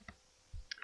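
Two quiet, crisp mouse clicks while selecting an item on a web page, spaced about half a second apart, in an otherwise near-silent room.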